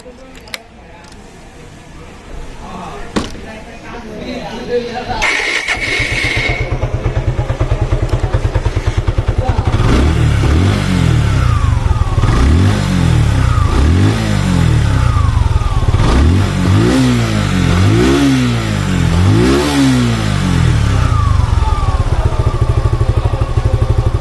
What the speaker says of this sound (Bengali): বাইকটির সাউন্ড কন্ডিশন